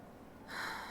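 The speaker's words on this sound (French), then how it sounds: "on m'entend renifler de ouf en plus" A short, close nasal sniff, a soft breathy inhale that swells partway through and holds briefly in a quiet room.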